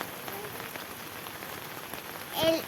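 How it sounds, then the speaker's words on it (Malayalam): Heavy rain in Kerala, a dense, even patter of drops on surfaces close by, with a brief louder splash near the end and no talk. "നല്ല മഴയാണ്, ആരും പുറത്തിറങ്ങണ്ട."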